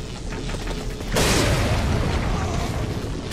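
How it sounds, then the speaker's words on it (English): A grenade explodes in Resident Evil 4, a sudden loud boom that swells into a long rumbling roar over steady background game noise. "I'm gonna use a grenade here"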